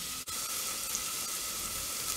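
Minced garlic and shallots fry in a pan of hot oil, a steady soft hiss of sizzling with a faint clink near the start.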